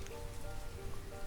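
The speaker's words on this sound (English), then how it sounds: "But it is late winter, and it is raining." Rain falling on a late-winter village in the city-building game Banished, a soft steady patter and hiss of drops heard alone at moderate volume throughout.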